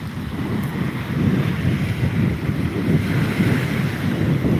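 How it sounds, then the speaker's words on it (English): Strong wind blowing by the water on a warm, hot day, a steady low roar of gusts buffeting the microphone, mixed with the wash of waves, continuous and fairly loud with no voices. "I don't know if this wind's gonna die."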